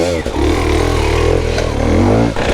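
An enduro motorcycle engine runs loud and close on a trail ride, with a throaty, slightly uneven rev that holds and swells before dropping off.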